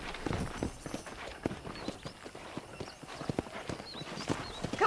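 Horse hooves clip-clopping at a walking pace in the Red Dead Redemption game, with a brief whinny and a voice speaking over the steady, fairly close hoofbeats.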